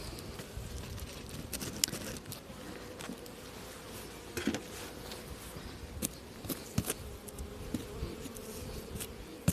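A dense, continuous buzz of many honeybees up close, with scattered clicks and light knocks over the droning hum.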